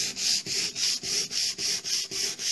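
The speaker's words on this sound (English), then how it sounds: "So 240, I'm just going to give it a rub down" Hand sanding a surface with 240 grit sandpaper, a steady run of about ten quick rhythmic back-and-forth rubbing strokes, close and clear with no talk.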